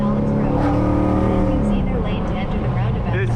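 A cammed widebody Dodge Charger Scat Pack pulls hard under acceleration, its loud, close engine droning continuously with a steady harmonic growl throughout.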